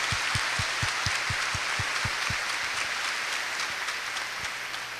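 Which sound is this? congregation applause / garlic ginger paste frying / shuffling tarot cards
congregation applause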